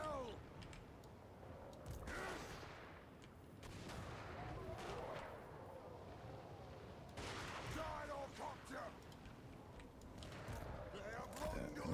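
Massed ranged units in a Total War: Warhammer 3 battle trade gunfire, with continuous crackling volleys and scattered booms as a dense, faint battle wash, while a person talks over it.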